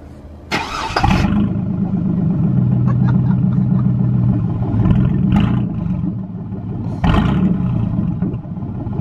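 A diesel engine in a cheap pickup truck build, fitted with a custom exhaust tip, starts with a sharp burst, then idles roughly and rumbles close by, with light throttle blips and a second loud pop-like rev near the end.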